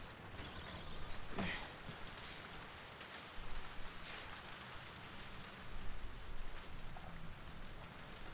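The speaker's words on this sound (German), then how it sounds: "Außerdem regnet es doch." Steady rain falls in The Last of Us Part 2, a soft continuous patter on surfaces with a few brief louder swells, fairly faint and with no talking.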